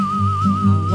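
Live whistling of a melody, done with the diaphragm and an open mouth, a single clear sustained tone wavering slightly over warm backing music, brief and close.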